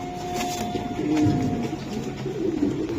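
A racing pigeon coos softly in a loft, giving low, throaty, rolling coos close by over a quiet background.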